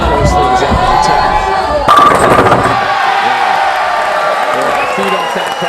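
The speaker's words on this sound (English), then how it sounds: "Feed off that crowd, Packy." Crowd at a PBA Elite League bowling event in Las Vegas cheering and whooping after a shot, a loud roar with a sharp burst of noise midway and a commentator talking over it.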